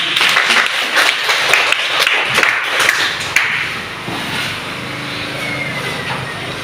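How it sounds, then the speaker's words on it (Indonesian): Audience applause, with brisk clapping that is fairly close and loud for the first few seconds, then trailing off into quieter room sound. "Ya, terima kasih tepuk tangan."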